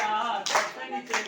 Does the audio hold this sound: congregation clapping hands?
yes